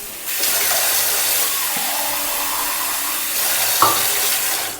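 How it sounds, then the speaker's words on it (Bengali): Water poured into a hot pan of paneer and potatoes gives a steady, loud hiss and sizzle that runs for several seconds, close up, with a small clink near the end. "দাঁড়া একটু জল দিয়ে দিই"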